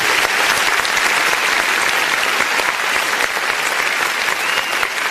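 A large outdoor crowd at a kabaddi cup match in Toba Tek Singh, Pakistan, claps in a loud, dense, continuous roar that holds steady throughout.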